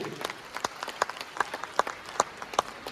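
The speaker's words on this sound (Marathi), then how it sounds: "तुम्हाला सर्वांसाठी एकदा जोरदार जोरदार जोरदार टाळ्या झाल्या पाहिजे." Audience clapping in a hall after a speaker's cue, with sharp individual claps that fall into a loose steady rhythm, fairly sparse rather than a dense roar, at moderate loudness.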